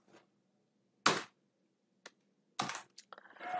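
Keystrokes on a computer keyboard: a few short, separate clicks with pauses between them, then a quicker burst of tapping, close and fairly quiet.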